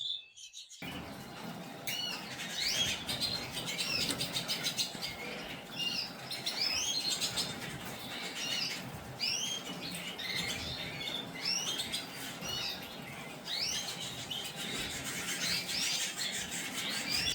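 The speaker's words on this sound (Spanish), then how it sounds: "vamos a enseñar otro pajarito bebiendo del automático" Small birds chirping around an automatic drinker in an aviary flight cage, a steady stream of quick high tweets and squeaks, overlapping and continuous at moderate distance, with no talk.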